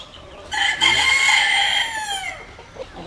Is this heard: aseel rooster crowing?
yes